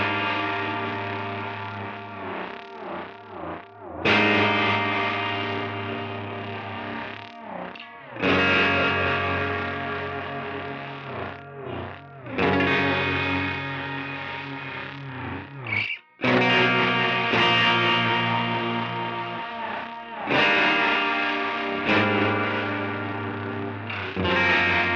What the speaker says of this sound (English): like a broken dynamic flanger sound